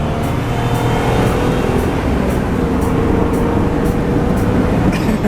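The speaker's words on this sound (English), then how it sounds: "we are going to take the Oldsmobile for its first ride and see if the transmission's good to go" A 1986 Oldsmobile Regency on its first drive after repair, a steady interior drone of engine and road noise rolling continuously at moderate loudness with no talking.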